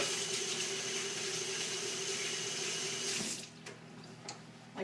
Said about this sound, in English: Just got to wash my hands again.